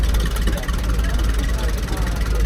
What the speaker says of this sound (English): Nice Blackstone engine.